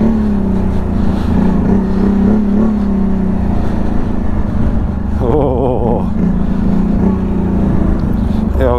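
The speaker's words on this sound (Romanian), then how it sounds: "Ia uite cum face ATV-ul!" A loud, steady ATV engine drone runs throughout, close by, riding through snow and forest, with a voice briefly speaking over it midway.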